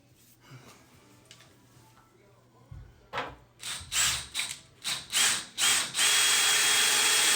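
A power drill whines into wood through several short bursts while building a barn door, then runs in a long continuous grind at close range, loud against a quiet room.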